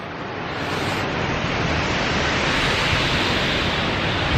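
The Nuranang Waterfall near Tawang, in snowy winter, gives a steady, loud, close roar of falling and rushing water that continues without break, with no voices.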